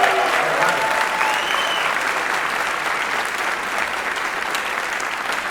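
Steady, full applause from an audience at a college fall convocation ceremony, a dense wash of clapping that carries on throughout at an even level.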